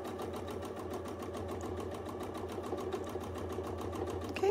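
A sewing machine stitches steadily for free-motion quilting, a fast even needle rhythm humming at moderate, close volume without pause.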